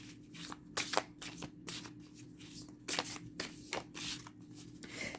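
Oracle cards being shuffled by hand during a reading: close, papery riffling bursts that come in uneven clusters over several seconds, with no speech.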